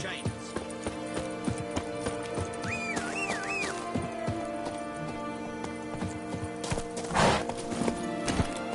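Horse hooves clop in a steady galloping rhythm in the video game The Witcher 3: Blood and Wine, close and clear, with a whinny partway through and a voice speaking over it.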